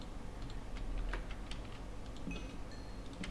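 Quick, regular ticking from a video game map maker, a crisp timer or clock-like tick repeating steadily, fairly faint over a soft background hum with no talking.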